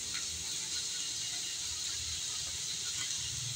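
Grated carrot and chopped onion with garlic sauté in soybean oil in a pan, giving a steady, even sizzle and hiss that holds at a moderate level throughout.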